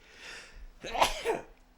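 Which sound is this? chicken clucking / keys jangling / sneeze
sneeze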